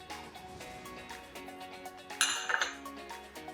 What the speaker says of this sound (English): Give them a quick mix.